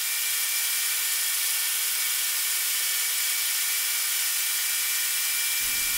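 Rock crusher roller mill wheels being ground smooth, a constant harsh high-pitched grinding hiss that stays loud and unchanging throughout, with a low thump entering at the very end and no talking.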